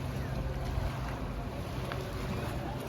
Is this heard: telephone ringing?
no